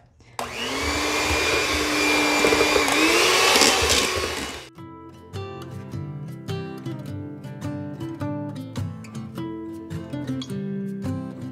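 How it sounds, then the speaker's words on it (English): An electric hand mixer runs loud and steady as it mashes potatoes, a high whirring drone for about four seconds that cuts off abruptly, followed by a stretch of background music. "That is some unbelievable power in this little hand mixer."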